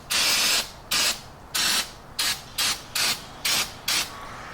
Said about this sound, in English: Really good with some brake cleaner.